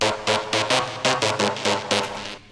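A drum and bass remix plays a punchy synth lead doubled by a supporting MIDI layer, with rhythmic stabs over a driving beat, loud and up front.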